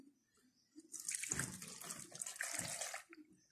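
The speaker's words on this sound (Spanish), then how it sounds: "Ya nada más vamos a poner un poquito de agua." Water pours from a tap into a pot of pumpkin and sweet potato dessert, a steady splashing rush lasting about two seconds that starts and stops abruptly, close and fairly loud, with no talk.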